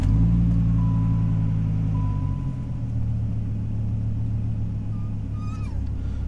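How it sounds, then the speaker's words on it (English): A Dodge Viper engine rumbles low and loud at close range after an oil change, settling from a higher speed into a steady, deep idle, with faint chirps near the end. "Let's fire it up and make sure the oil pressure's good and check for any leaks."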